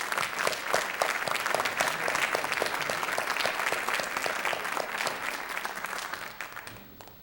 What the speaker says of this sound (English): Let's clap for the Canton Chamber members.